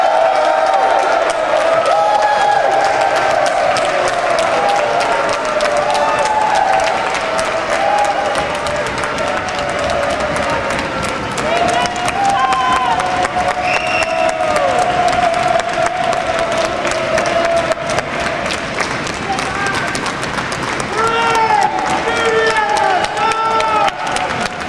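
Loud, sustained applause and cheering from an event audience, with scattered whoops over dense clapping that carries on steadily for the whole stretch.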